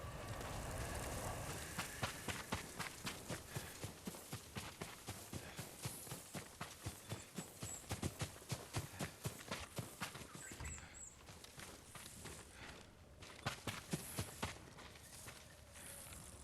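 Rhythmic hoofbeats clop steadily for a long stretch, a horse in the video game Ghost of Tsushima moving at a brisk, regular pace, fairly close and alone without talk.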